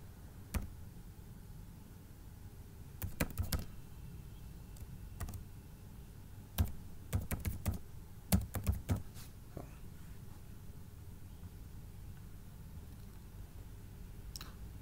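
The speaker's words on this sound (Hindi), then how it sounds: "अपना अकाउंट का नाम इधर टाइप करता हूँ।" Computer keyboard typing an account name, scattered clusters of sharp key clicks in short bursts with pauses between, close and alone over faint room hum.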